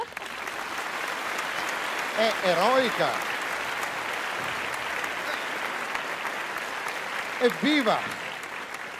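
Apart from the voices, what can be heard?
audience applause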